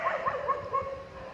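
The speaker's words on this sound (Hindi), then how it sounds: "कुत्ते बहुत भौंक रहे हैं" Several dogs bark and yelp in a deserted, remote place: repeated, drawn-out barks that sound distant and moderately loud over a steady background hum.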